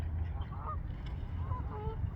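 Geese honking at a lake aviary on an island hatchery where birds nest, several calls spread across the clip, moderately near, over steady low outdoor rumble.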